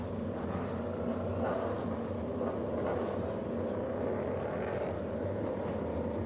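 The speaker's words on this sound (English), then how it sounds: "The cars are running onto the track then" EuroNASCAR stock cars roll out onto the circuit at the 2024 NASCAR GP Spain, a distant, steady engine drone carrying under crowd and ambient noise, faint and continuous without distinct passes.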